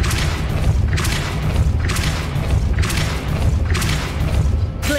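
Repeated heavy booming impacts from the Depulso spell in Hogwarts Legacy, about four dull thuds spaced roughly a second apart over a dense, loud rumbling game soundscape.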